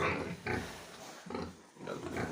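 A pig grunts in a series of short, close, snorting oinks, roughly four bursts separated by brief pauses.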